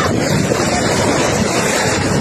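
Super typhoon winds roar across a rough sea in Bicol, a dense continuous blast of wind buffeting with crashing surf underneath, loud and close, no talk.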